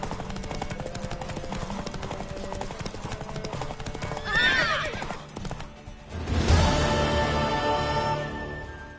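Rapid hooves clatter in a steady gallop in The Witcher 3 video game, then a horse neighs loudly, followed by another whinny and snorting over continuing hoofbeats.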